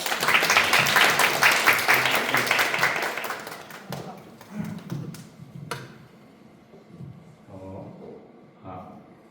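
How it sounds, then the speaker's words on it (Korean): Clapping from a group at a cohort orientation icebreaking session, a lively burst of many hands that tapers off after a few seconds into scattered claps, sparse taps and quiet room noise, with a voice briefly heard. "박수 부탁드립니다."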